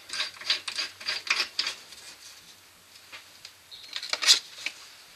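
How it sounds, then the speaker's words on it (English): A bowl sander held in a Jacob's chuck on a wood lathe, sanding a wooden bottle stopper with a 120 grit pad: repeated close, soft rubbing rasps that come in bursts, ease off midway, then return. "we can put the Jacob's chuck into the lathe and use our bowl sander"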